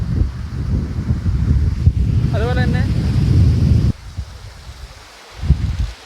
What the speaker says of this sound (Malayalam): ആ ഇൻഫിനിറ്റി പൂളിൽ നിന്ന് നേരെ വെള്ളം പതിക്കുന്നു താഴത്തോട്ട്.